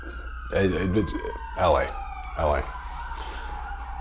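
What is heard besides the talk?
sirens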